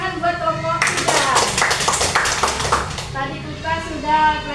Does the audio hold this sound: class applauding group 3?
yes